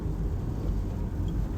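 Steady, dense hiss of rain falling outside at 4 a.m., constant and unbroken, with no voices.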